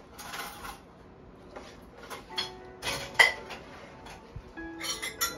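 Someone rummages through a drawer of cutlery looking for a spoon, producing scattered metallic clinks and rattling jingles in uneven bursts separated by short quiet pauses, close by.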